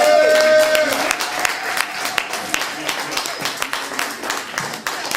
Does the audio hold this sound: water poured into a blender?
no